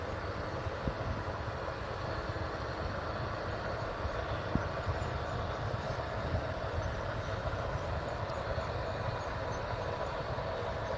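A heavy Canadian Pacific freight train rolls past with a steady, continuous rumble and clatter, moderately distant, with no voices.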